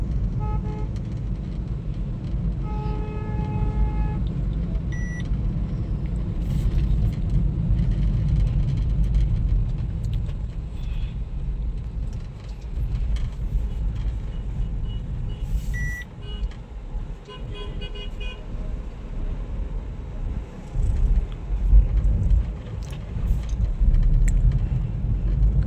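A car drives steadily along a road during a fuel-mileage run, with a low engine and road rumble underneath and a few distant horn toots and beeps from passing traffic.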